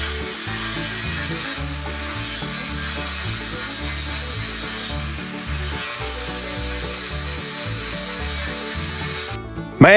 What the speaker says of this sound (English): just fill these low places in with weld and grind them